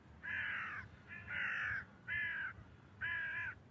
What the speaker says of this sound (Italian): ho dei corvi che mi girano sopra